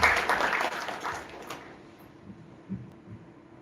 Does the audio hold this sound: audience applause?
yes